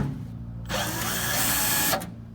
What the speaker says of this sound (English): go ahead and take those off with your 90-degree drill